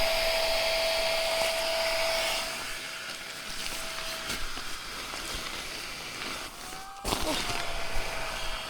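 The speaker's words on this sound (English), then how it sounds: "Flextail's max pump." A Flextail Max Pump electric air pump runs steadily at close range, giving a continuous whirring hiss that shifts pitch slightly near the end, heard on a wild camping trip.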